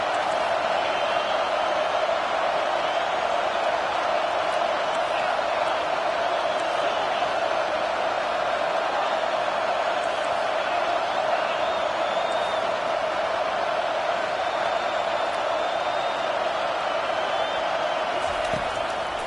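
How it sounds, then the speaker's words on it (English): A college football stadium crowd roars on a third down, a sustained, broad wall of cheering noise from a large crowd with a broadcast commentator talking over it. "Decibels rising as the crowd gets behind this defense on 3rd down."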